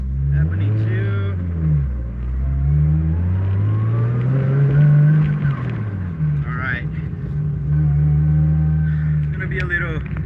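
A freshly built 2JZ-engined car revs hard while spinning and drifting, its loud engine note rising and falling in long sweeps with sharp throttle blips, heard close from inside over talking.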